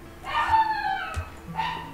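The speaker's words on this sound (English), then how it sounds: "Sorry about the poodle barking in the background." A poodle yaps and barks a few times in the background, high-pitched and fairly close, with a brief pause between bursts.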